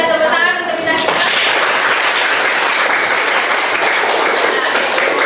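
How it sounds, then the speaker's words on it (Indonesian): Applause from a class of fashion production students at the end of a lesson, a dense, loud, sustained clapping that starts abruptly after a brief voice and continues steadily to the end. "Tepuk tangan untuk kita semua"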